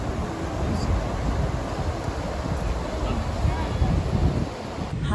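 Strong wind gusts across a microphone on the coast at Santos, a steady broadband roar with surf-like rushing that holds loud and unbroken throughout, without any talk over it.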